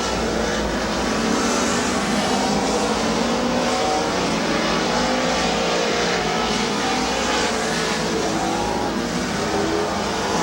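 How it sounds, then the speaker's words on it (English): Race cars lapping Midvale Speedway in a 2010 race, a continuous loud roar of engines and tire noise with waves of passing cars, heard from near the track without pause. "Coming in this time on halfway, 10 laps in, 10 more laps to go as Ron Degg and Randy Smart"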